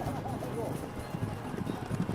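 Faint trotting hoofbeats of racehorses in a time trial, a steady clip-clop rhythm, partly under a voice talking.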